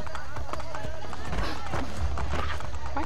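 A horse gallops in Assassin's Creed Brotherhood, hooves clip-clopping in a quick steady rhythm under a constant wash of game sound, with voices talking over it.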